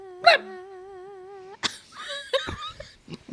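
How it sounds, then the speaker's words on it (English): A small dog gives a few high, sharp yaps and a whiny yelp, loud and close, with short pauses between bursts. "Like a little yappy dog."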